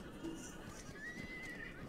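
Horse neighing in the Roblox game The Wild West, a faint drawn-out whinny with a light clip-clop beneath it, heard alone at low volume.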